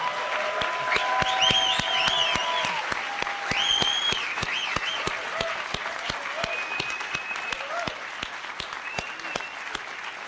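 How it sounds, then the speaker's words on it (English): Conference audience applauding at a hacker convention's closing ceremony, sustained steady clapping through the whole stretch, with whoops and cheers rising over it early on. "I think Lindsay deserves more applause than that."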